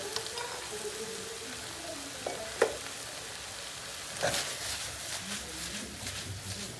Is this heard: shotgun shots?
no